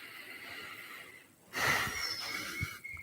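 During an online yoga class a person takes one deep, audible breath that sounds airy and slightly wheezy, lasting about a second, against a faint steady hum.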